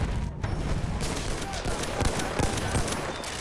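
Rapid gunfire from a gun in the Battlefield 1 video game, a dense, continuous burst of loud automatic shots throughout, with battle noise underneath.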